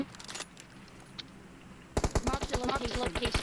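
In PUBG Mobile, gunfire breaks out after a quieter stretch with faint clinks. A loud, rapid automatic burst of close shots follows and runs to the end.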